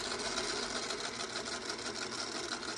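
A sewing machine stitches along a quilt block seam, its fast even whirring close and steady throughout with no talking.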